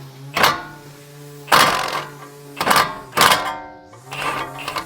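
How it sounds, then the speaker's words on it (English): A ratchet or wrench works a castle nut loose on a Honda Civic tie rod end, giving four or five separate bursts of clicking and metallic rasping with short pauses between them. "now we're just gonna undo the castle nut"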